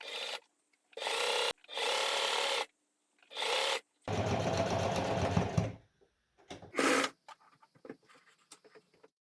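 A sewing machine stitches elastic onto a fitted sheet in short, loud whirring runs separated by pauses. One longer rattling stretch and some light fabric-handling sounds follow, with no one speaking.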